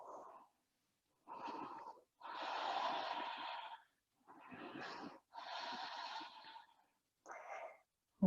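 Slow, deep yoga breathing: about six long, airy inhales and exhales, each lasting a second or more and separated by short silent pauses, close and fairly quiet.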